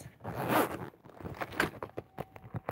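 A paper pencil case is zipped closed: a sharp, close zipper pull comes first, followed by several short rasping zips and clicks.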